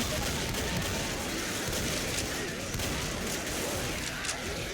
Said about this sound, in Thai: ฉียิงไม่พักเลย